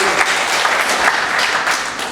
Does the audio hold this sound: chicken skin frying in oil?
no